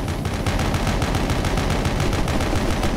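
Rapid video game gunfire rattles in a steady, fast stream of loud shots that run unbroken for three seconds, close and dominant with no voices over it.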